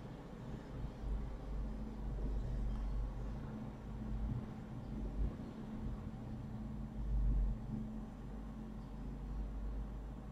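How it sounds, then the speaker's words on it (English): Steady road traffic outside, a continuous low rumble with slight swells as vehicles pass, heard at a distance behind a quiet room. "There's quite a lot of traffic noise today."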